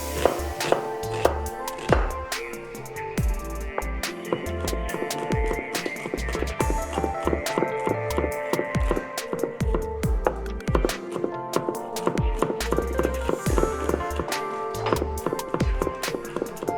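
A knife chops garlic on a board in quick, steady strikes, close and crisp, with a low hum running underneath throughout.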